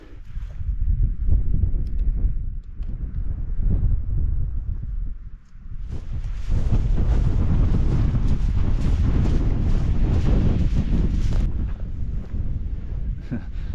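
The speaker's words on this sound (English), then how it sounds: "That wind has been relentless though" Strong wind roars across an open Lake District hillside near Stickle Tarn, buffeting the microphone in loud sustained gusts that swell even harder partway through.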